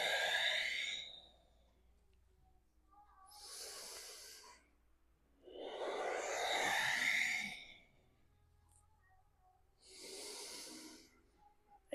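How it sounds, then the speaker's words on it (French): Slow, breathy exhales during a slow vinyasa yoga flow, four long airy breaths spaced a few seconds apart, close and soft in a quiet room. "J'expire."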